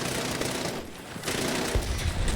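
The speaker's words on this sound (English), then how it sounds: "The minigun, which is also on the Blackhawk, can do a lot of damage to it now." The Blackhawk helicopter's minigun in Battlefield 6 fires dense, rattling bursts, with a short gap midway and heavy low thuds.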